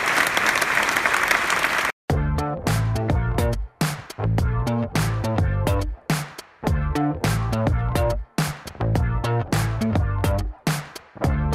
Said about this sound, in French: Je vous demande s'il vous plaît qu'on les applaudisse et qu'on leur rende hommage.